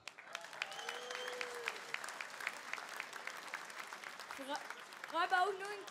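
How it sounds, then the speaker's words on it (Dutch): A crowd applauds the winners at a Limburg carnival (vastelaovend) event, a steady patter of clapping from the audience with voices calling out and talking over it, ending in a brief burst of excited cheering. "Een groot applaus voor de winnaars van het KVL"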